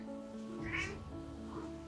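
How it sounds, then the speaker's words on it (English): A house cat meows indoors, a single drawn-out, fairly close call rising over a steady background hum. "Sorry for my cat there"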